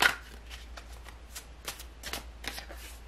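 A deck of tarot cards is shuffled by hand, giving a run of soft, quick riffling flutters in irregular bursts, close and quiet, with no one speaking.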